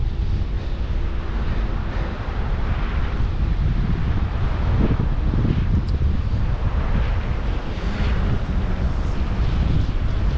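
Strong wind buffets the microphone on an ocean beach with surf, a steady roaring rush of gusts that runs the whole time with low rumbling surges and no voices.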